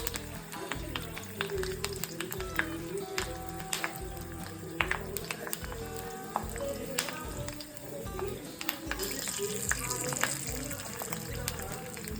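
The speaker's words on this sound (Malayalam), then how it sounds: "അപ്പം നമുക്കിതിനെ വറുത്തെടുക്കാം" Freshly caught small river fish fry in oil with a steady crackling sizzle and popping spatters, close by, while a person talks over it.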